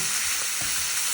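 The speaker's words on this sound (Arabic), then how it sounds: "نقلب بقى كده المشروم." Mushrooms sizzle and fry in ghee and butter in a pan for a veal piccata with button mushrooms, with a steady close crackle throughout and a couple of soft scraping stirs, and no voices.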